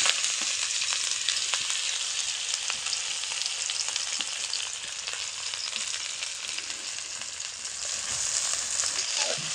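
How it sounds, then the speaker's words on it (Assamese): Onions frying in hot oil with cumin seeds in a pan for Bengali egg curry, a continuous close sizzle with small crackles, steady and alone without any voices. "পিঁয়াজখিনি মানে ৰঙচীয়াকৈ ভাজি ল'ব"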